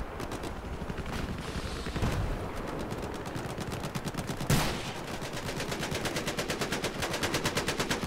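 Sustained automatic gunfire from Battlefield 4, a dense rapid rattle that continues for the whole stretch, with a heavier blast near the middle and the bursts growing more evenly spaced toward the end.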